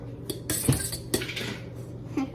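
Eggs being mixed in a bowl before seasoning, several bright clinks and scrapes of a utensil against the bowl, close and fairly loud, with no talking.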